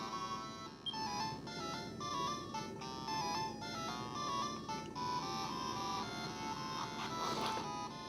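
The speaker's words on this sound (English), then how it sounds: "the music is the remixed version from the Super Famicom version, obviously downsampled to match the Game Boy sound output" Game Boy game music remixed from the Super Famicom version and downsampled: bright chiptune melody of short beeping notes over a busy buzzing background, quiet and continuous.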